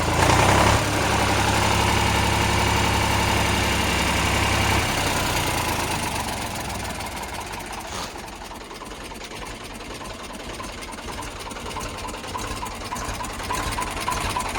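An Eicher 485 tractor's company-fitted diesel engine idles with a steady rattling chug, loud at first and then easing slightly lower as it keeps running alone.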